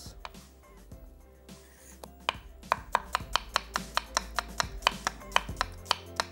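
Onion chopped on a board with a knife, starting with a few scattered cuts and settling into a quick, even run of sharp close taps, with no talk.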